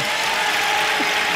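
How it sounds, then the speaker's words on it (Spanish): Studio audience at a music show applauds in a thick, continuous roar of clapping, loud and unbroken for a brief moment. "Aplaudan eso, hombre, por favor."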